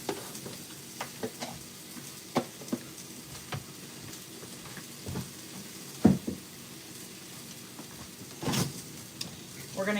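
Food frying in a skillet during home comfort-food cooking gives a soft, steady sizzle scattered with small pops and clicks, with a voice talking intermittently over it.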